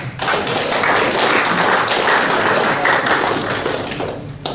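A crowd at the Newysports Awards 2018 ceremony applauds the Northern referees, with loud, dense clapping sustained evenly for the whole stretch before easing slightly at the end.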